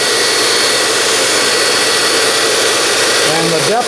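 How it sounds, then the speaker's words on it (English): A Dumore tool post grinder runs on a South Bend C9W lathe, grinding a dead center, with a loud, steady high-pitched whine that holds throughout with no pauses. "And I'll turn the grinder on."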